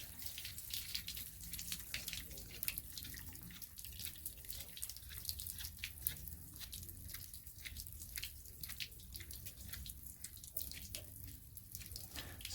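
Water drains from travel trailer plumbing during winterizing, a continuous trickling and dripping with irregular splashes, close and fairly quiet, with no talking.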